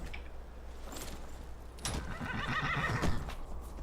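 A horse named Thunder in Skyrim Anniversary Edition whinnies with a rising, quavering neigh, preceded by faint clip-clop hoofsteps and low game ambience.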